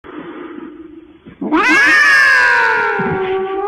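A cat lets out a single long, loud, drawn-out meow that rises sharply and slowly falls, following a quieter stretch of background sound.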